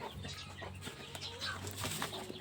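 Chickens, including a rooster and a new brood of chicks, cluck and chatter in a steady mix close by, with no talk over them.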